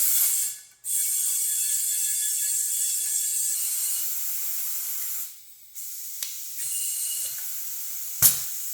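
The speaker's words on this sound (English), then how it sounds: "we're gonna pressurize this thing until the pressure relief lifts" An LS engine's oil system is primed under air pressure until the relief valve lifts, giving a loud steady hiss that cuts off briefly and resumes, broken by short mechanical clicks and a sharp burst near the end.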